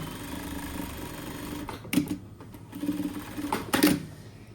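A sewing machine stitches the waistband of a tracksuit in short bursts, with a low hum, a couple of sharp clicks and a gentle rattle, close by and quiet, with no talking.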